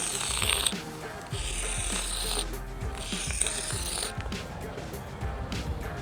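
A measuring wheel rolling along a running track, ticking and clicking steadily with a mechanical ratcheting sound, close by, under outdoor background noise and no clear talk.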